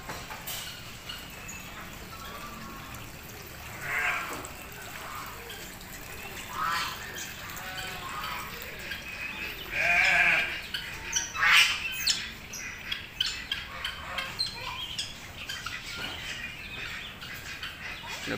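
Ducks squawk and quack at a mini zoo, several loud calls bunched near the middle with scattered shorter ones after, over steady outdoor background noise.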